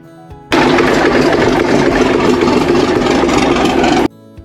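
An old excavator's engine, unused for years, fires up abruptly and settles into a loud, rough, steady idle, then cuts off sharply after a few seconds.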